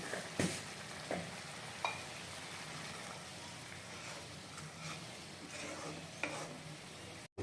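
Gravy for mustard pabda fish curry bubbles and simmers in a pan with a soft, steady sizzling hiss, broken by a few quiet clinks of a utensil.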